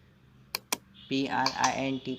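A couple of sharp computer-keyboard keystrokes while entering Python code, followed by a person talking.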